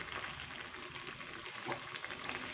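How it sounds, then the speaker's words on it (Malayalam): A pot of drumstick leaf curry boils hard, giving a steady, dense bubbling hiss with small pops throughout. It stays fairly quiet and even, with no voices. "കറി ഇതാ തിളക്ക് നല്ലവണ്ണം തിളച്ച് വരുന്നുണ്ട്"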